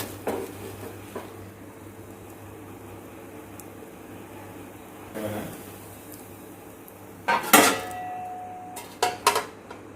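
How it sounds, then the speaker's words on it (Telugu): A freshly cooked dosa is lifted off the pan onto a serving plate, giving a few short clatters and scrapes of utensil against plate near the end, over a low steady background hum. "ఇప్పుడు సర్వింగ్ ప్లేట్లోకి తీసుకొని సర్వ్ అవుట్ చేసేసుకుందాం."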